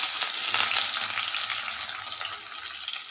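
Onions frying in hot oil with urad dal, cumin, mustard seeds and curry leaves for a catering-style brinjal curry, a steady close sizzle with light crackle throughout and no talking.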